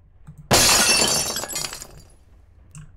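Glass smashes loudly in the Puppet Combo horror game Nun Massacre, a single sharp shatter with bright tinkling debris that rings out and fades over about a second.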